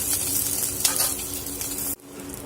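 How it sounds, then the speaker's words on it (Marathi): Green chillies and garlic roasting in a pan give a steady close sizzle and crackle with faint stirring, cutting off abruptly near the end, no talking. "थोडंसं हलकंसं लसूण आपण भाजून घेणार आहोत"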